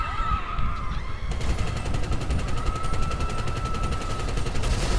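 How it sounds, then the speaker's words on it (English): A minigun mounted on the Weaponized Tampa in GTA 5 spins up, then unleashes a sustained rapid burst of gunfire with a fast, even rattle, moderately loud and alone. "just like a real minigun, it has spin up time before it fires."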